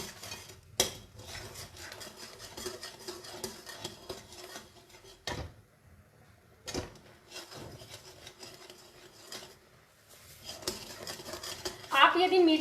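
Sugar cooks in a pan on a gas stove, stirred with a spoon that scrapes and rasps steadily against the metal, broken by a few sharp clinks, under a voice.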